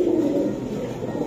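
Giribaj high-flying pigeons coo in a steady, continuous low murmur, close and moderately loud, with no voices over it.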